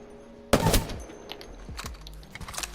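A burst-fire weapon in Apex Legends fires one loud, sharp burst of rapid shots, followed by fainter scattered shots and echoes.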